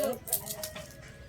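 Chickens cluck in short bursts at close range, with a rooster-like call mixed in, over a busy outdoor background.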